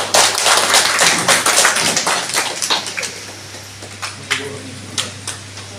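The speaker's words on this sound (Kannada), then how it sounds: "ನಿಮ್ಮೆಲ್ಲರ ಚಪ್ಪಾಳೆ" An audience at a Sufi gathering welcoming a new BJP member claps, dense loud applause at first, thinning into scattered individual claps while a steady hum continues beneath.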